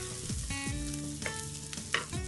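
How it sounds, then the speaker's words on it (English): Green chilies fry in a pan for chicken fried rice, giving a close, busy sizzle over a brief stretch. Stirring scrapes and tonal clanks of metal on the pan mix with the frying. "I'm gonna use this green chilies also. Just fry nicely."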